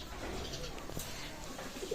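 Pakistani teddy pigeons cooing in a loft, soft low murmuring coos close by over a background of room noise, with faint indistinct voice underneath.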